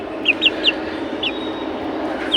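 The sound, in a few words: chickens and roosters clucking on a rooftop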